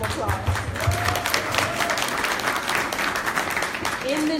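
An audience at an inspirational luncheon claps for the next speaker introduced, steady applause with a voice faintly audible underneath it.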